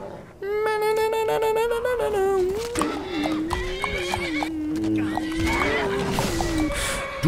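A horse in the Skyrim video game gives a loud, long whinny up front, followed by more snorts and neighs over intermittent hoof clip-clops, close and prominent throughout.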